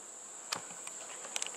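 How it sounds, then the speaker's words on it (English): Bees recently vacuumed out of a hive in a house wall buzz in a steady high drone, with a few sharper close buzzes and taps rising briefly above a quiet background. "This is the bees that we just took out. We vacuumed up this morning."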